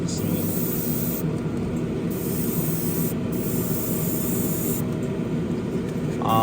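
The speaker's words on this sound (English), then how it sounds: "I'm just going to give this top a little coat of primer" Spray primer is applied to the top of a plastic motorcycle LCD light shade in a steady, close, continuous hiss, with brief changes in tone as the spray moves across the part.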